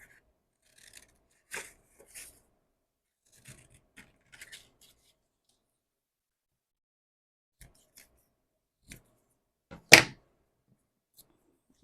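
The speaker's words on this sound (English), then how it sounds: "I'm just going to cut out some of these squares." Scissors snip through paper squares for a junk journal in a quiet room, a few sparse, separate cuts with long pauses, the sharpest snip near the end.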